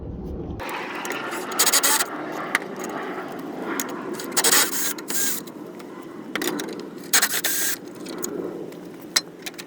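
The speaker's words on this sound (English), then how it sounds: "you want to unscrew these 4 screws" Screws being backed out of a car headlight housing during an H6054 LED headlight swap: close, intermittent bursts of scraping and ratcheting, separated by short pauses, with no talking.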